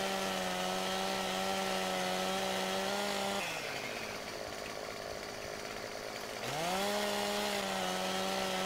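A chainsaw in Farming Simulator 15 cutting branches off a tree whines at steady high revs, drops to a rough lower idle for about three seconds, then revs back up to a loud, even buzz.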